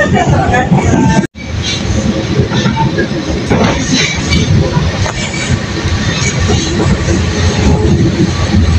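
The Cikuray passenger train pulls into Leles station with a loud, steady rumble of wheels and carriages, rail clatter and some squeal. The noise drops out briefly near the start, then carries on close and continuous.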